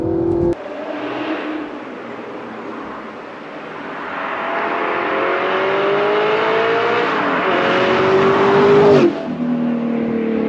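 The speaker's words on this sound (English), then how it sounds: "the way it picks up speed, any gear, the noise, the downshifts" An Audi R8 V8 with a manual gearbox revs up steadily through the gears, its pitch rising, then drops sharply on a downshift, loud and close from inside.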